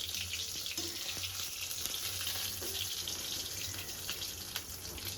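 Paneer pieces lightly frying in oil in a pan, a steady soft sizzle and crackle running throughout with faint clinks and watery hiss.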